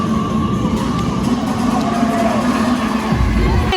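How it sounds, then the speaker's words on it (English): Loud, dense crowd noise fills a gym during a Cal State Fullerton versus Long Beach college volleyball game, steady cheering and shouting throughout with a deeper swell near the end. "It's loud in here."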